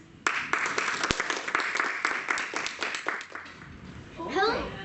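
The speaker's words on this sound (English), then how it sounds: "A great applause for Isabela Lopez Noguera" A school audience at a primary public speaking contest claps for a young contestant, a loud burst of scattered hand claps that thins out over a few seconds before a voice begins.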